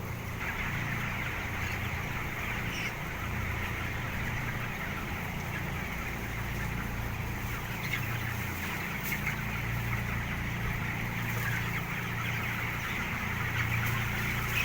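Twenty-day-old chickens cluck and peep in a steady, dense chorus over constant low background noise, with no talking.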